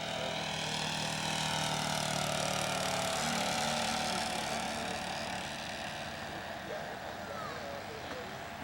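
Float plane making a low flyby at a fly-in, its engine drone heard steadily and fairly loud, rising then slowly fading as it passes, with voices talking nearby.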